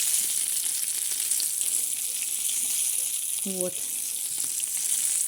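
Pea-filled pirozhki fry in a pan with a constant bright sizzle and crackle, and a short spoken word breaks in briefly over the frying.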